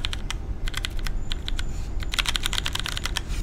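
Fast clicky typing on a Redragon K556 mechanical keyboard, bursts of close, crisp keystrokes with brief pauses, heard alone without talk.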